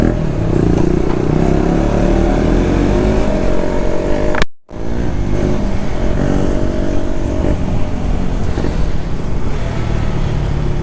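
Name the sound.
motorcycle engine revving during a failed wheelie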